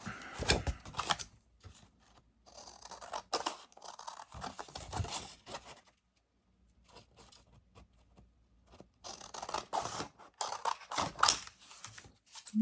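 Scissors cutting around a paper sketch, a close, quiet series of crisp snipping strokes in irregular bursts separated by short pauses and a near-silent gap midway.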